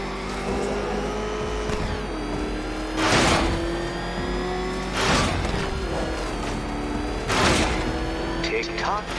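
A Batmobile engine in Batman Arkham Knight revs in three loud surges under a steady idling drone, with game character voices talking over it.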